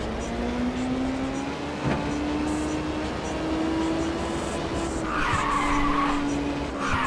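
Tires squeal steadily as a car drifts through a corner in the PSP racing game Ridge Racer, a continuous skid held over the engine and game noise throughout.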